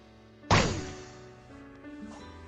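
A single sharp kick impact lands in a Thai online game during a Christmas event: one loud thud with a bright crack, fading into quiet game ambience and a low hum.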